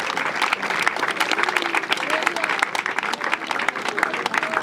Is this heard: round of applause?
yes